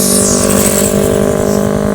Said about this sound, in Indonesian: kedatangan bus